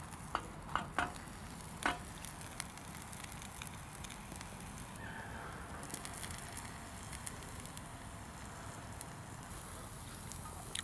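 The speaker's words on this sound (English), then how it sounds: "Just encourage that to fry ever so lightly." Food fries gently in a seasoned camp frying pan over a One Tigris Firebox wood stove, a soft continuous sizzle with a few light clicks and taps near the start, quiet and close.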